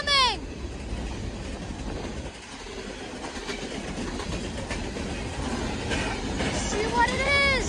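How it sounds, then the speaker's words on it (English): A Union Pacific AC44CW freight train rolls past, its steady rumble and rattle filling the scene, with squealing high tones rising at the start and again near the end as it continues. "Train is coming!"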